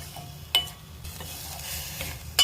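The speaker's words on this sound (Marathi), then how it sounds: "सगळं हलवून घेतो आता व्यवस्थित सगळं मिक्स करून एकजीव करून घेतो" A spoon stirs spice masala in a cooking pot for a bone soup, giving soft scraping and gentle sizzling with a couple of sharp clinks against the metal, close by, with no talking.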